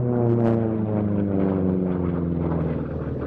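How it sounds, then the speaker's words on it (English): A P-47 fighter flies past at the Duxford airshow, its piston engine droning loudly with a strong harmonic growl that peaks early and then holds steady as it passes. "And here comes the P-47."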